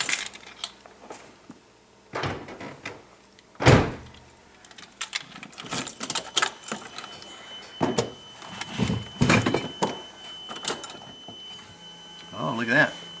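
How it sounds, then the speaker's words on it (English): Door of an 80s Land Cruiser shut during a stereo swap, one of several sharp clunks and rattles amid keys and handling noises, with intermittent talk. "Just shut the door."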